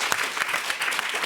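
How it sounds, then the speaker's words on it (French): A studio audience at a film debate applauds actor Abel in a brief, lively burst of many hands clapping together, even and fairly loud throughout. "On l'applaudit, Abel, quand même, dans le public."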